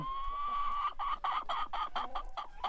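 Heritage-breed chickens cluck in a quick series of short, close calls, one bird more prominent over a faint steady background hum.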